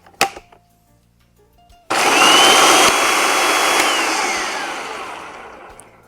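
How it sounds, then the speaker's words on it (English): A food processor grinds walnuts and other no-bake cocoa cherry bar ingredients into small crumbles. After a short click and a pause, a loud, steady whirring roar starts and slowly fades toward the end. "we're going to put the lid on, process the ingredients so they turn into very small crumbles"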